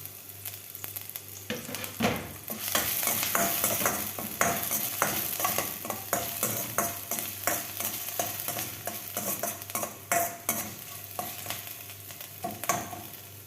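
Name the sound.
stir-frying garlic, ginger and coriander on low flame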